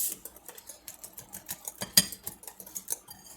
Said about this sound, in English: So I'm going to keep whisking, whisking, whisking.